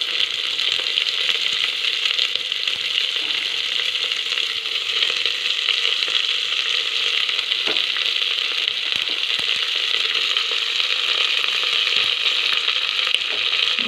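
Carrot and cabbage frying in a pan after browned onions, a loud steady sizzle and crackle from hot oil with occasional stirring clicks.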